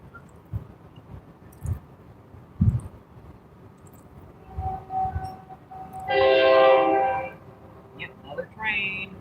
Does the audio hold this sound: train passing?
yes